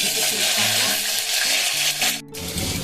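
Cumin seeds frying in hot oil for a vegetarian dish, giving a loud, steady close-up sizzle that runs without a break, with a brief dip near the end.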